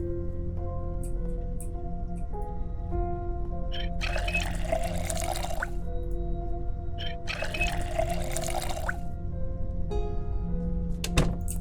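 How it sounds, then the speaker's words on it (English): Water bottles being refilled in the Project Zomboid video game: two separate rushing, pouring bursts of water, each lasting about a second and a half, over steady background music. "Need to refill our water bottles."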